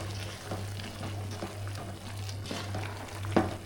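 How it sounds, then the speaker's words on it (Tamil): Meal maker (soya chunk) gravy bubbles and simmers in a pot, a steady soft sizzling and popping with a low constant hum and an occasional stir or clink, heard close up without talk. "திறந்து பார்க்கலாம் பாருங்கள் சூப்பராக கொதிச்சிக்கிட்டு இருக்கு"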